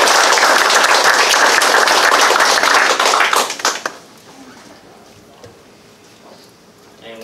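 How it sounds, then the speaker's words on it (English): A city council meeting audience applauds a newly introduced Main Street director, brisk clapping for about four seconds before it cuts off into quiet room tone. "Everybody give her a round of applause."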